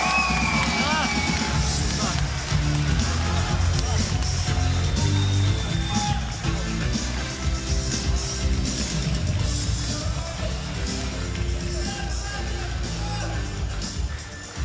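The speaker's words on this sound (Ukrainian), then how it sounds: "Друзі, оплески, ще оплески цим двом хлопцям, які видали неймовірний поєдинок" Crowd at a boxing match cheering, whooping and yelling after a bout, a loud sustained roar in a hall with an amplified announcer's voice talking over it throughout.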